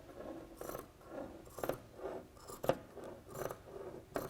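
Scissors snip steadily through T-shirt fabric, a series of crisp cuts roughly once a second, close and fairly quiet with no talking.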